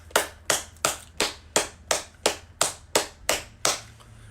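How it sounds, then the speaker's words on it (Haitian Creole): About a dozen sharp, evenly spaced claps ring out at a steady beat, each crisp and distinct with a short decay, with no voices over them. "La jeunesse bat bravo pour tout."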